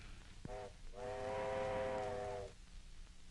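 Steam locomotive whistle blowing as the train arrives, a short toot followed by a longer sustained chord-like blast, fairly close and strong over low rumbling, with no voices.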